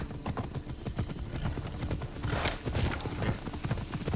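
Horse hooves clip-clop in a steady, busy rhythm in the video game Assassin's Creed Odyssey, a close, continuous trotting patter throughout.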